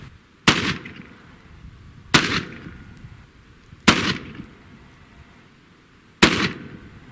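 A pistol firing saboted rounds with a light powder charge: four loud, sharp shots spaced roughly two seconds apart, each with a short decaying echo, no voices between them.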